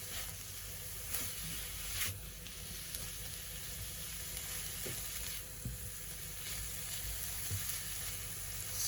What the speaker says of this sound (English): So turn your pan up high and just let that sizzle.